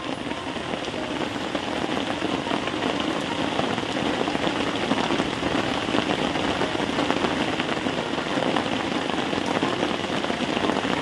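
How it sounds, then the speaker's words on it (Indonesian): Steady rain pours down outdoors on a tidal fishing spot, a dense, constant hiss of drops on surfaces throughout, loud and unbroken with a faint low engine-like rumble beneath and no talking. "Hujan ini."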